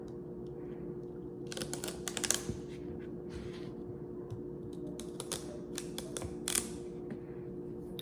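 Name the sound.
knife cutting celery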